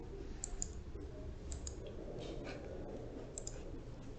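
Computer mouse clicks while working in pattern-making software, a few quiet, sharp taps in small pairs spaced about a second apart over a faint steady background hum.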